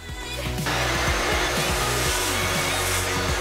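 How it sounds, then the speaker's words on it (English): A shop vacuum drones loudly and steadily as it sucks dust out of a ported intake manifold for an LS-swapped RX-7, starting up after a brief moment and running alone without talk. "Now I'll clean and vacuum the dust out."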